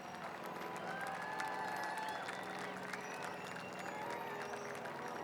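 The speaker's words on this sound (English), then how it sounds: "now a warm round of applause for Louis Zamperini family and friends" A parade crowd at the Torrance Armed Forces Day Parade applauds and cheers steadily for Louis Zamperini's family and friends, with dense clapping mixed with street noise and murmuring voices, held at a constant level throughout.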